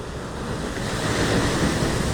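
Waves wash steadily onto the shore at Cibangban beach in West Java, a continuous broad surf roar that swells slightly louder midway, with some wind buffeting the microphone and no voices.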